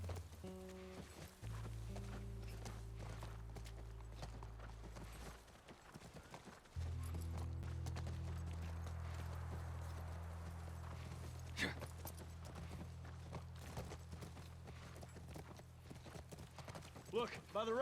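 Horse hooves clip-clop steadily in The Last of Us Part 1 near a ranch, a repeated walking rhythm under droning game music and ambience, with a brief whinny-like sound and talk over it.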